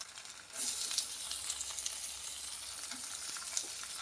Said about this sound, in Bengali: এবার পেঁয়াজ কুচিটাও দিয়ে দেব,